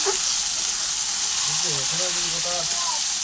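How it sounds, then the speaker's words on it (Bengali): Chicken pieces fry with spices in a pan, giving a loud, continuous close sizzle and hiss while a person talks over it. "এই দেখো চিকেনটা দিয়ে দিলাম ভালো করে কষিয়ে নেবো"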